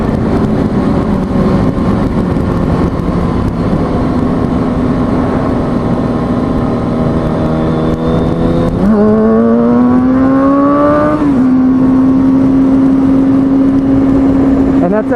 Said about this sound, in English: you're downshifting, you're pushing the bike into its higher revs, pushing more horsepower through your motor